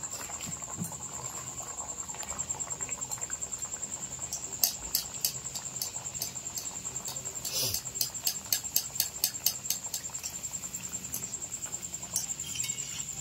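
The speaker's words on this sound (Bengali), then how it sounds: "এরপরে দেখুন আমি কচুরিটা ভেজে নিচ্ছি।" Cabbage-stuffed kachori deep-fries in hot oil with a bright, steady crackling hiss, punctuated by quick bursts of popping and sputtering.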